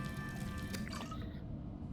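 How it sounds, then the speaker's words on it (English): Subnautica crafting sound as a bladderfish is turned into drinkable water: a brief wet, bubbling liquid effect with a few drippy tones over a steady game background hum. "let's make this bladderfish into water"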